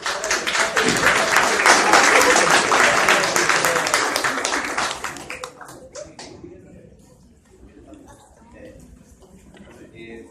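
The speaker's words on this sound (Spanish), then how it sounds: "brindemos los aplausos correspondientes" A lecture audience at a customs-control seminar breaks into dense, loud applause that holds for about five seconds, then thins to scattered claps and fades under a murmur of voices.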